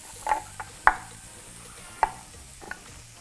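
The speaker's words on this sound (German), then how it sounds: "So, weiter schneide ich Chili." A knife chops chili on a cutting board in a few separate sharp knocks, irregularly spaced. A faint kitchen hiss runs underneath, and no one speaks.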